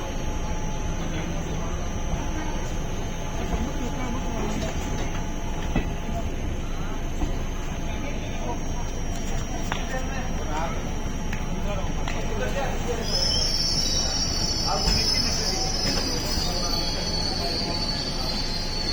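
Onboard the 22471 Bikaner–Delhi Intercity Express, wheels rumble steadily on the rails with a persistent high squeal that intensifies toward the end, a continuous close-up clatter throughout.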